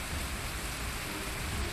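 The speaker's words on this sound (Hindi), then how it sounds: "मूसलाधार बारिश ने सांता क्रूज का हाल बेहाल कर दिया है।" Heavy monsoon rain in Mumbai pours down as a dense, steady hiss with no break.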